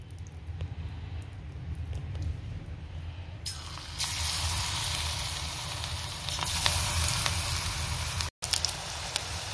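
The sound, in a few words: pakoras frying in hot oil in a wok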